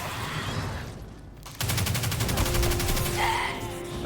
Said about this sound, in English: Yeah, but it's an SMG.